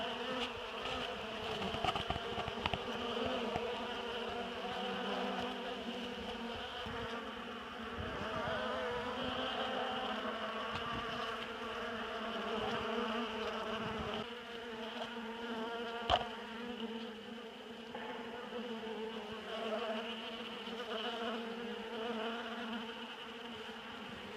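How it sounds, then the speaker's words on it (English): A steady, dense buzzing of many bees at a feeder fills the air, a continuous drone close by with no talking. "You can see them bees in there."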